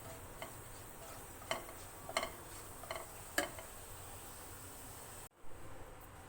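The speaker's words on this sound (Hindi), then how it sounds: "उसमें हम ये ज़ीरा भूनेंगे।" Cumin seeds roast in a teaspoon of oil in a pan while a sweet and sour chutney is made. A faint, steady hiss carries scattered sharp crackles and pops, then breaks off abruptly near the end.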